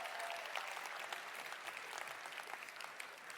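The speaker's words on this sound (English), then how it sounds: "Please give another round of applause for Reg and Andreas." Steady crowd applause at a global conference, dense and even clapping from a large audience, heard at fairly low level for the full few seconds with no talking over it.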